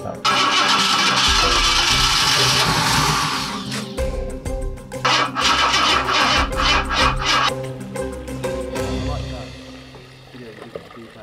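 A classic Ford engine in a barn-find car cranks and catches, firing roughly on three cylinders with an uneven, sputtering idle and bursts of revving, close and loud, while people talk nearby.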